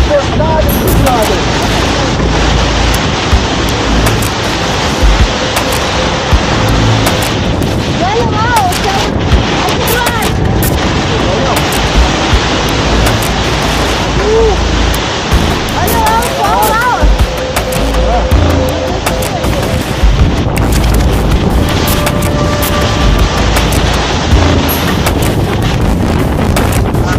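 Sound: storm with strong wind and waves on the coast

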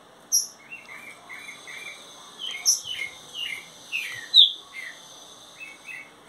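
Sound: green-winged saltator (trinca-ferro) singing

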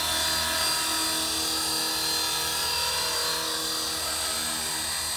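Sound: Air Wolf 450 RC helicopter flying before landing

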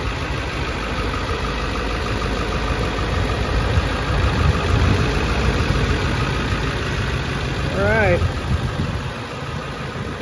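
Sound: Ford 7.3 diesel truck engine idling

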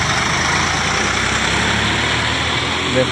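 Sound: tractor loaded with bricks passing by

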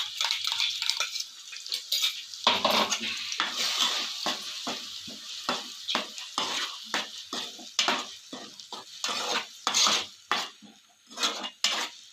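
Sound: onion paste frying with green chilies in pan

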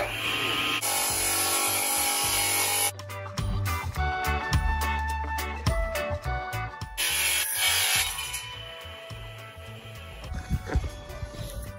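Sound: angle grinder cutting off metal

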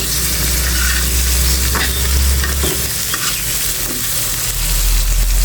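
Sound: green chilies frying with pumpkin fritters

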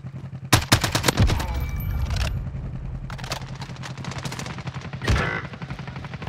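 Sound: gunfire from a video game (Call of Duty Warzone)

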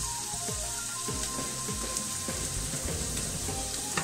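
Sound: food browning and frying in a pan

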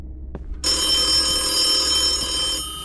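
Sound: phone ringing in a video game

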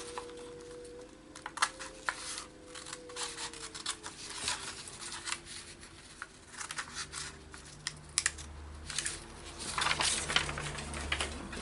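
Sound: cutting a word out of junk mail paper

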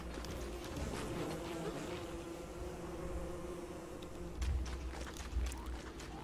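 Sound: buzzing bee in video game Don't Starve

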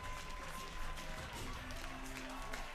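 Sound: stadium crowd applauding

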